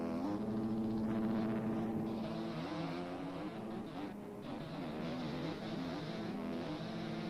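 In the motocross video game MX Bikes, racing motorcycle engines whine and rev continuously, close and loud, with pitch rising and falling as they accelerate and shift.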